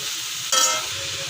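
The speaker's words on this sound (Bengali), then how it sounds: "অল্প আঁচ দিয়ে সুন্দর করে আমি আস্তে আস্তে করে ভেজে নেব" Shukto vegetables, including cucumber, frying slowly over low heat, a steady close hiss with a brief louder burst of sizzling partway through.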